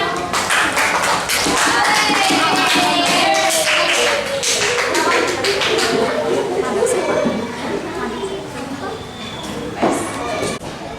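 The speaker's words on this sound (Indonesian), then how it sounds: "beri tepuk tangan untuk kelompok 1" A classroom group receives a burst of applause, with many hands clapping loudly and rapidly together over chatter and voices before fading toward the end.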